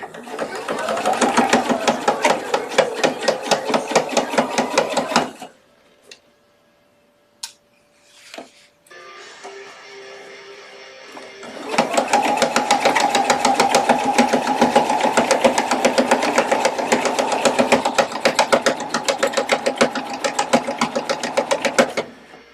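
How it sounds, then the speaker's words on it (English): Sewing machine stitching at a steady, rapid rhythm, loud and close, stopping for a few seconds of quiet handling and rustle before running again in a long continuous burst. "Yay, sewing time."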